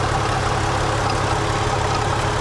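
A loud Volkswagen Jetta wagon engine idles steadily with a constant low rumble and a dense metallic clatter from a worn belt tensioner running through it, close by.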